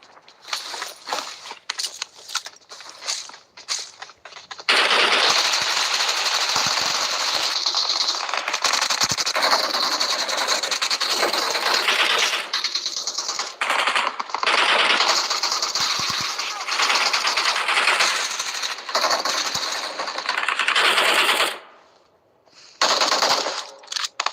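Sustained automatic gunfire from a BGMI (Battlegrounds Mobile India) mobile match, loud and dense rapid bursts for most of the span after a quieter start, cutting out briefly near the end; players talk faintly in the background.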